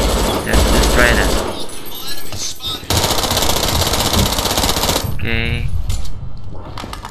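Rapid automatic gunfire rattles in bursts during a firefight in the shooter game Brink, loud and close, with brief pauses between volleys, metallic clinks, and someone briefly speaking over the shooting.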